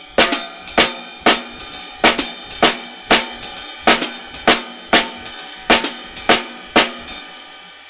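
Drum set swing ostinato with an independent snare pattern played over it, a steady stream of crisp cymbal and snare strokes in a swung rhythm, close and even, with no voices.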